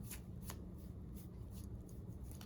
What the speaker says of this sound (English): I'm gonna try to shuffle the cards now.